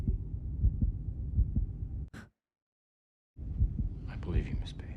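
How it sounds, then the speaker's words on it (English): A heartbeat sound effect from an episode of the Daredevil series thumps in a steady, muffled low rhythm, cutting out abruptly into silence for about a second before resuming, with whispered speech over the later beats. "Is he lie detectoring her heartbeat?"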